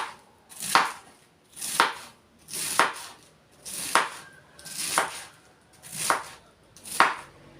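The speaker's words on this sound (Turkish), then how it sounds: "Lahanayı da aynı bu şekil ince ince salata yapar gibi doğruyoruz." A knife thinly slices cabbage in a steady rhythm, about one cut per second, each stroke thudding crisply on a board, up close with no talking.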